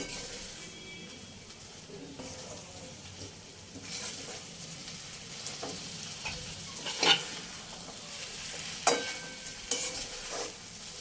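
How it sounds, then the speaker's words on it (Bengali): Vermicelli for jorda semai is stirred in a covered pot after the lid comes off, giving soft scraping strokes and a few sharp clinks over a faint simmering hiss, with no talking. "এবারে ঢাকনা খুলে একবার নেড়ে দেখে নেব সেদ্ধটা হয়েছে কিনা।"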